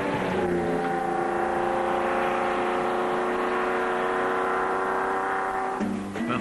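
A Lamborghini Espada's 350-horsepower V12 with dual overhead camshafts, revving hard in a loud, sustained howl with a steady rising tone before the revs drop suddenly near the end.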